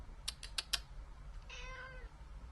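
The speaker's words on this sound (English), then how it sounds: "Don't just stand there meowing." A cat gives a single short, fairly faint meow near the end, preceded by a few quick clicks against low background hum.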